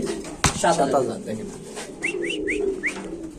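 Pigeons coo repeatedly at a pigeon farm, soft rolling calls rising out of a busy background with a sharp knock early on and a run of brief chirpy whistles near the end.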